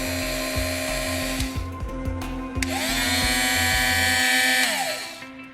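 An Oster battery-powered pet nail grinder with two speeds and a fine-grit stone wheel whirs close by, its high motor whine stuttering briefly before settling into a steady run.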